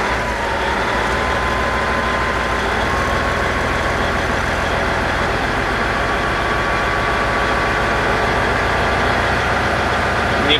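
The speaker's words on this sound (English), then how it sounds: "Bring the RPM up a little." Heavy truck engine at a raised idle during an air brake pre-trip check, a loud, steady diesel rumble that holds constant throughout with no talking.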